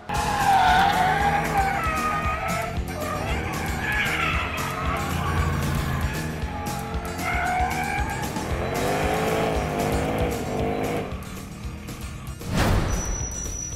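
Jaguar XFR and XKR performance cars driven hard at their limits on a track, with tires squealing in long, wavering shrieks and engines revving, loud and close, ending in a sharp burst of noise.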